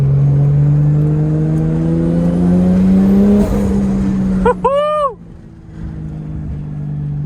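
A 450 hp Toyota Chaser JZX100 with a 1JZ engine accelerates hard on boost, its engine note climbing loudly before lifting off into a quick series of chirping, fluttering bursts, then settling to a low idle-like hum.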